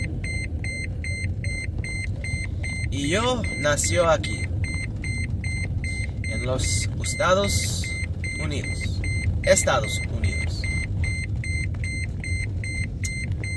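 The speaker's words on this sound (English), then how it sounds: "Sorry about the beeping." A Toyota Prius seatbelt warning chimes in a steady run of short, evenly spaced electronic beeps over the low rumble of the moving car, while a person talks in Spanish over it.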